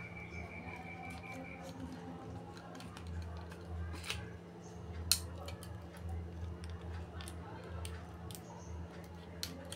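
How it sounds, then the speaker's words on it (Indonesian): Scissors cut through a used plastic water bottle, with faint, sparse snips and crinkles over a steady low room hum, one sharper snip standing out. "kita gunting dari sisi sebelahnya lagi."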